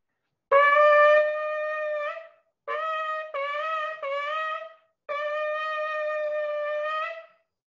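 A shofar sounds the shevarim and tekiah calls: a long held blast, then three shorter broken blasts, then another long sustained blast, clear and alone in a quiet room.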